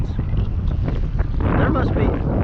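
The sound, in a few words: strong wind gusts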